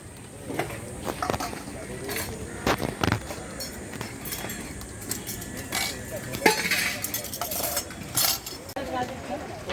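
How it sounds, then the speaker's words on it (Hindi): Metal utensils being packed for a disaster relief ration distribution clink and clatter in repeated short bursts, close by and moderately loud, with people talking in the background. "ये सब बर्तनों की पैकिंग हो रही है।"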